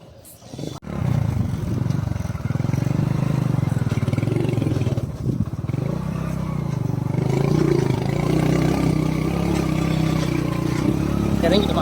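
A motorbike rides a rough, steep hill road near Vellandappan Temple in Odugathur, Vellore, its engine droning loud and steady with clatter and scraping from the uneven surface throughout.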